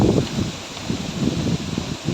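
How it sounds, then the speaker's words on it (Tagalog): Strong gusts buffet the microphone in uneven rumbling bursts, with a rustling sound over them. "grabing lakas talaga ng hangin ngayon"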